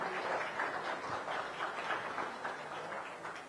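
A political academy talk-concert audience claps for the director, giving steady applause from a sizable crowd at fairly low volume.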